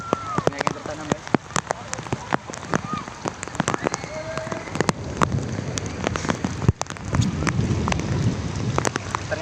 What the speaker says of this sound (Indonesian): di sini renang sambil hujan-hujanan guys